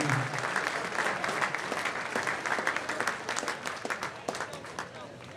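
A baseball crowd at a Legion state tournament game applauds a ceremonial first pitch, with steady clapping spread across the stands that rises and then gradually thins out.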